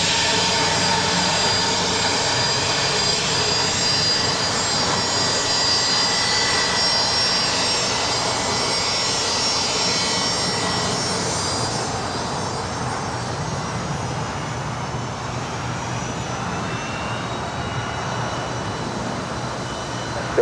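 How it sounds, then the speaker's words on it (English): A heavy Airbus jet departing Los Angeles International Airport gives a loud, steady, broadband engine roar that stays strong throughout and eases slightly in the second half as it moves away. "Team departure with a heavy Airbus."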